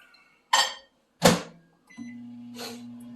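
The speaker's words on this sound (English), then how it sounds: "I'm going to stick that in the microwave for 1 minute." A microwave oven holds food drizzled with apple cider vinegar, with sweet potatoes added. Two sharp close clicks or thumps come first, then a steady low hum starts and keeps running.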